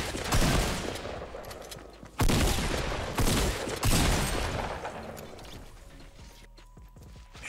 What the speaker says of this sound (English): Shots literally everywhere, dude.